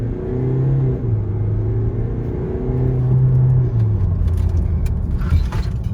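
A Range Rover Evoque 2.0 TDi diesel engine, remapped, drones and rumbles steadily under hard acceleration with turbo lag, its pitch climbing and shifting as it pulls hard, with a few faint clicks near the end.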